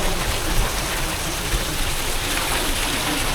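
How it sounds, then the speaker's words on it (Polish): Water pours over a weir on the Jeziorka river in Piaseczno, a dense, steady rushing roar filling the short stretch without a break. "Jest to jazd na rzece Jeziorka."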